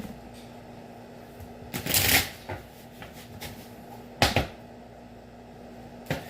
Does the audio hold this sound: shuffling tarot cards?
yes